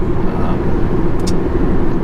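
Steady low engine hum from inside a 2012 Kia Optima turbo cruising in top gear at fairly low RPM, a continuous even drone with road rumble and no talking.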